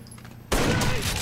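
Sudden burst of loud, sustained gunfire in Rainbow Six Vegas 2 on Xbox 360, a dense rattling volley that starts abruptly after a quiet half second and keeps going to the end.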